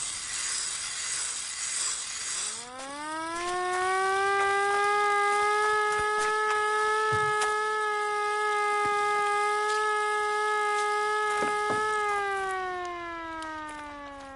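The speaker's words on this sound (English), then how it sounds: "Okay, so the siren can lure enemies?" A rising, wailing siren in a horror video game climbs in pitch, then holds a loud steady multi-tone howl for about ten seconds before tapering off, with no talk over it.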